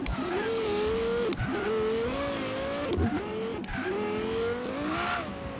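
A car does a wheelie in a racing video game, its engine revving in repeated rising pulls with brief drops between shifts, steady and up close, with no talk.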